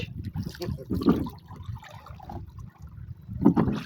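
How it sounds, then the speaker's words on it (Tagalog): Water flowing and trickling outdoors, a steady soft stream with brief louder gurgles and splashes, heard close with faint voices in the background. "Wow, ang ganda ng hilira ng tubig ah."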